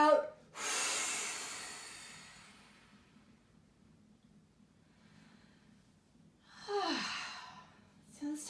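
Two forceful exhales during a yoga breathing exercise, one long breath blown out near the start and another a few seconds later, close and breathy with quiet between them.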